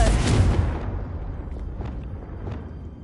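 A Confringo blasting spell in the Hogwarts Legacy video game, a loud, close explosive boom that decays into a rumbling tail with a few faint crackles.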